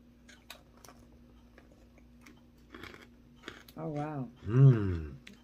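Someone crunches freeze-dried candy, with faint scattered crackles at first, then louder close-up chewing bursts and soft vocal murmurs toward the end.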